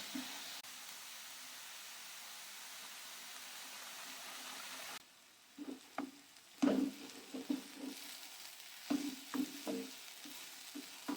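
Grated carrot fries in ghee in a pan, starting as a soft steady sizzle, then after a brief drop turning into irregular clattering stirs and scrapes over a quieter hiss.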